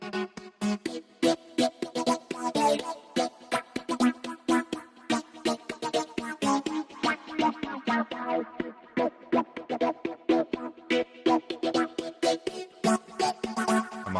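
Minimal house synthesizer playing the same harmony in a new voicing, with chopped rhythmic chord stabs pulsing steadily throughout, loud and without talk.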